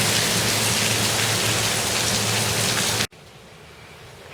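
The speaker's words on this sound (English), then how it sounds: "So rainy." Heavy rain pours steadily outside at night in windy weather, a dense continuous hiss that cuts off abruptly near the end to a much quieter background.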